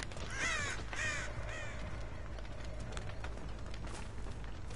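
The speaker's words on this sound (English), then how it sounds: "Oh, yeah, the crows." Crows caw in the horror video game Dead by Daylight, a few harsh rising calls clustered in the first two seconds, fairly close, then fading into a low steady ambient drone with no talk.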